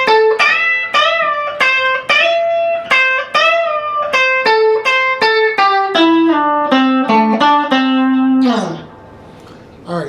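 Lead guitar phrase played up at the 13th position, a run of clear picked single notes with string bends, loud and close, ending with a brief strum and a fade.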